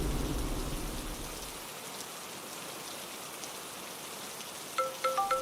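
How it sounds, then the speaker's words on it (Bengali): Steady rain falls over a village at night, a soft even hiss of drops on surfaces throughout, with a few faint tonal blips near the end. "বৃষ্টিও সেই দিন থেকেই শুরু হয়েছে।"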